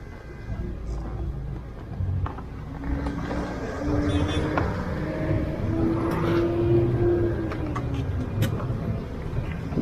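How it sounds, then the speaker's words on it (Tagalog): Many motorcycles passing through Kaybiang Tunnel, heard from a big bike: engine whines swell and fade one after another, echoing over the steady rumble of traffic in the enclosed space, growing louder toward the end. "Ang daming motor."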